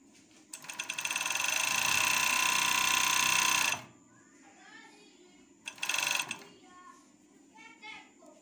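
Overlock 747 sewing machine stitching a baby pico hem runs in a fast, loud mechanical whir for about three seconds, then a short second burst, with a person talking in between.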